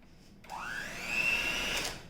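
Electric hand mixer whirring as it stirs a cup of sugar into chocoflan batter, starting abruptly and rising to a loud, steady motor whine with a rising pitch before easing slightly.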